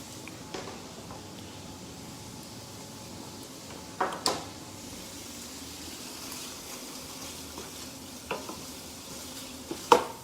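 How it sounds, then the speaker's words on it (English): Bacon sizzling in a pan on the stove, a soft steady frying hiss with a few sharp clinks of a spoon, close and fairly quiet, no talking. "The bacon is sizzling."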